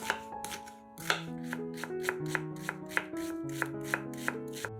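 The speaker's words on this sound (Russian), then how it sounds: "Одну луковицу нарезаем кубиками." A knife chops onion on a board in quick, regular strokes, each a crisp tap, with gentle background music underneath.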